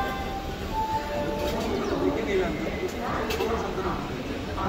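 The Rupasi Bangla Express pulls out of Kharagpur Junction station, a steady low rumble and rattle of the carriages filling the whole stretch at moderate level, with faint voices mixed in.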